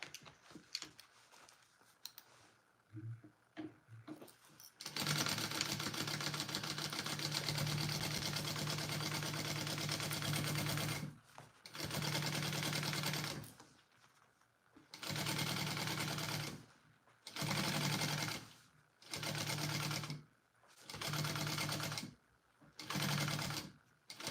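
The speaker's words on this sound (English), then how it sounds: "Now I just need to top stitch that like I did on the other" A sewing machine top-stitching a plush Mr. Heckles toy: a sustained whirring run at close range, then several shorter stop-start bursts separated by quiet pauses, with no talking.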